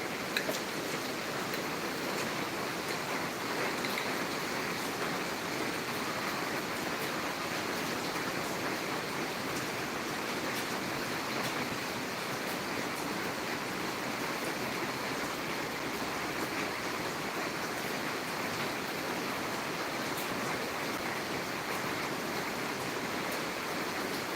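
Steady rain falling on the streets of Marmaris, a dense, even hiss of water that holds at the same level throughout with no voices.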